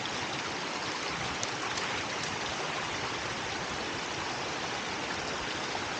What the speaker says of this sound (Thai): มีน้ำไหลผ่านตรง